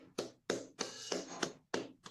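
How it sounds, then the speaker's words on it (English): Audience applause at a valedictory ceremony as an awardee is honoured: several short bursts of hand clapping from a crowd, each rising sharply and fading, with brief gaps between them, moderately loud and without talk. "Let us give him a big round of applause"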